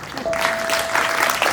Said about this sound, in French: Vous n'allez pas vous fatiguer d'applaudir pour ce que le Seigneur a fait.